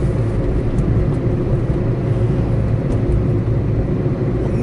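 A Subaru Stella loaner car with about 70,000 km on it is heard from inside while driving, a steady low engine and road rumble that stays even throughout with no talking.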